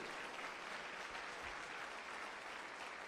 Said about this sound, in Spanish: Dale un aplauso por su dificultad.